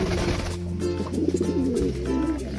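Pigeons coo nearby in repeated soft, throaty rolling calls, several overlapping, with no talking.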